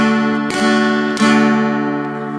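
Two guitar chords strummed on the bottom four strings, each a sharp downstroke at about half a second and just past one second, ringing out and slowly fading, played alone.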